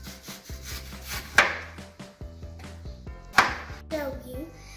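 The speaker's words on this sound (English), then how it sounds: "Now she's gonna dice the mango and take off the seed." A knife dices mango on a wooden chopping board, giving a series of soft, irregular taps and scrapes with two sharper knocks, close and fairly quiet, under a voice.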